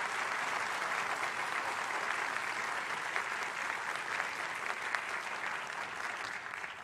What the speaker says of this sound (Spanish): hoy le pedimos un fuerte aplauso por su natalicio